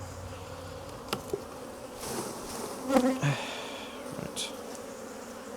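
Honey bees from an opened hive being inspected for queen cells hum in a steady buzzing drone, with a few handling knocks and a brief spoken word from a nearby person.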